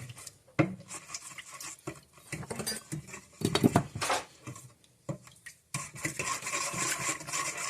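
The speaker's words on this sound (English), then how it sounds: "There is my egg. Let's mix this up." Utensil scraping and clinking in a bowl while egg, honey and sugar are mixed, irregular bursts of stirring and tapping up close with short pauses between.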